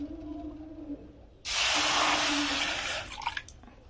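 Water pours in a sudden loud hissing splash into a pan on a lit gas stove, lasting about a second and a half before trailing off into faint drips and clinks.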